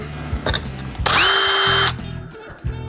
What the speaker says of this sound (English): simply drill a hole. I use a 1/16 inch drill bit.